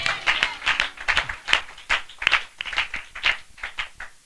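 A congregation clapping together in steady, rhythmic unison, a dense run of sharp claps repeating at an even pace, fairly loud and close, with no voices over it.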